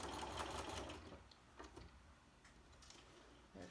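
A home sewing machine stitches the corners of a quilt block, a close, quick mechanical whir in a short burst followed by a few faint ticks and clicks.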